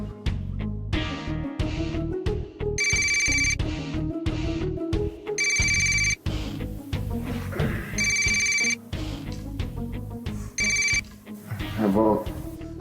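A mobile phone ringtone plays loudly in repeated bursts of a chiming, melodic tone separated by short gaps, mixed with background music and some voices.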